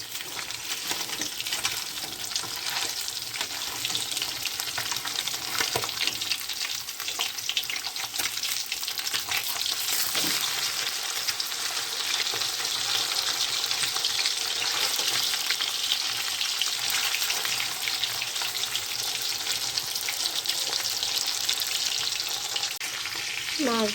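Fish frying in a pan with oil, turned partway through cooking, gives a steady loud sizzle and crackle throughout, with a few clinks and stirring sounds.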